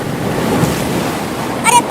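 Flood water surges and washes into a village house, a steady broad rushing roar like heavy surf with wind, close and continuous, swelling briefly near the end.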